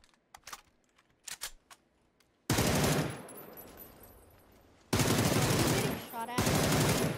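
Video game gunfire, with a few sharp isolated shots followed by long, loud bursts of rapid automatic fire that come and go.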